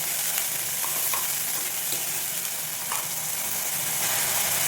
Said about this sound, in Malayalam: വെളിച്ചെണ്ണയ്ക്കകത്ത് തേങ്ങയൊന്ന് കടന്നു കിട്ടണം അപ്പോൾ തേന പെട്ടെന്ന് വെന്ത് കിട്ടും